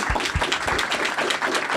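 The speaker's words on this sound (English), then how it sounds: "let's do a round of applause for Hayden" Applause for a speaker at a Transparency.dev summit session, a dense steady patter of many hands clapping throughout at moderate level.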